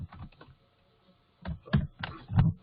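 Typing on a computer keyboard, short bursts of close, clicky keystrokes separated by a brief pause, the second burst louder and denser, with no talking.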